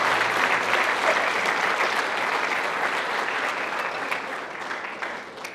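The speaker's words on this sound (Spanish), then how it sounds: "denle un aplauso al Rey" Sustained applause from a church congregation at a Sunday service, a dense steady wash of clapping that fills the room and slowly tapers toward the end.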